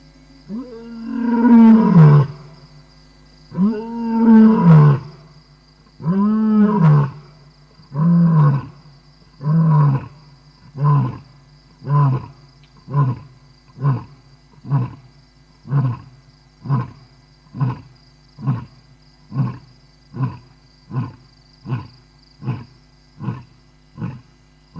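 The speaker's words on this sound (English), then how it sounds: "There goes his roar." A lion roars inside a boma, a long close sequence of deep grunting calls that start as heavy, drawn-out roars and shorten into a steady series of clipped grunts fading in strength toward the end, with no talk over it.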